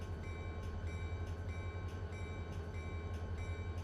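CSX freight trains rumbling through the Waycross rail yard in Run 8, a steady low drone of locomotives with faint rhythmic clicks and a constant wash of rail noise, no voices.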